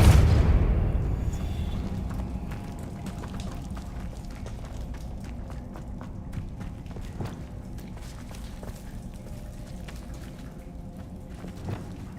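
A Depulso spell is cast in Hogwarts Legacy, a sudden booming blast that fades into a low rumble, followed by quieter scattered steps and soft clicks.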